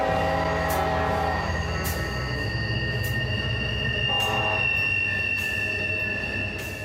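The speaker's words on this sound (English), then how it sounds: "There's your train coming." A train passing through a town in southern West Virginia, with steady rumbling and high, sustained wheel squeal on the rails, loud and close, easing slightly toward the end with no voices.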